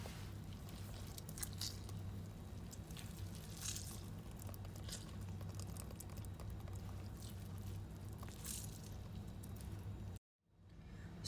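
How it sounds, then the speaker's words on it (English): Grated courgettes are squeezed by hand to press out their juices, giving faint, wet squishing and crunching sounds that run on steadily before stopping abruptly, with no talking. "now we're just going to squeeze out the juices"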